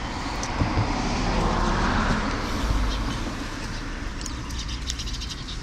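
Birdsong in a park on a Saturday evening, with faint chirps scattered high over a broad steady rumble of distant traffic and aircraft, no talk.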